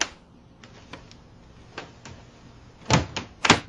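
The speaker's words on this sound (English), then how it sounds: "Wow, the door fell off." A loose door clatters and knocks in a few scattered light taps, then two louder, close thuds as it falls off, with no talking.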